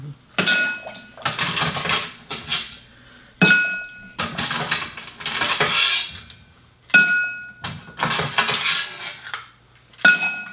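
Ice being scooped into a glass for a Manhattan cocktail, several bursts of clinking, rattling cubes separated by short pauses, bright and close, no talking.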